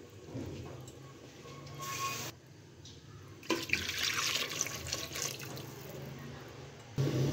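Water pours into a pot of dhaba-style chana dal as it cooks, a steady splashing run that stops and starts in several bursts, fairly close and with no one talking.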